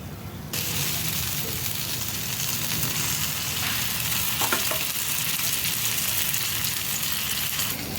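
Thalipeeth flatbread roasting in a hot pan for a fasting recipe, giving a steady, close frying sizzle that runs evenly throughout with a few faint stirring clinks and no talking.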